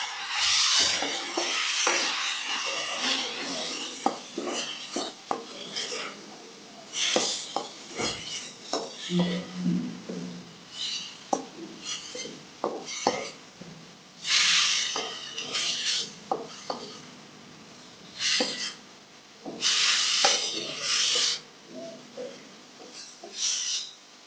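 Tomatoes with onions sautéing in a pan for kadamba chutney are stirred with a utensil in repeated scraping, rasping strokes and occasional clinks against the metal, close and fairly loud, in uneven bursts with brief pauses between them.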